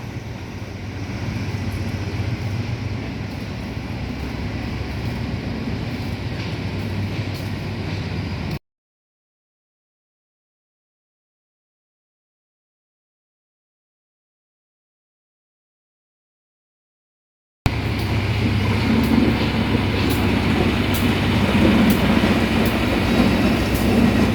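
Diesel locomotive GA 4537 hauling ordinary train 262 rumbles steadily past at close range, with a constant roar and faint rail clatter; the sound cuts out midway and then resumes.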